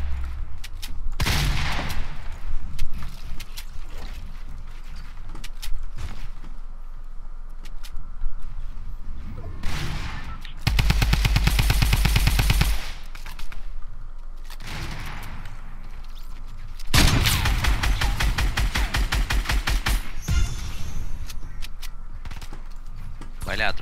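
Rifle fire in a Fortnite squad match, with bursts of rapid shots in a few separate stretches between quieter gameplay sounds, some of them close and loud.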